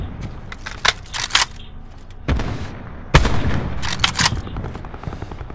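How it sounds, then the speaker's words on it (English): Gunfire in a video game crackles in loud, sharp bursts, with rapid volleys and single shots at close range over a low background rumble. "I think somebody's shooting at them"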